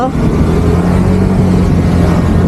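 Motorcycle engine idling close by, a loud, steady low rumble that runs unbroken for a few seconds.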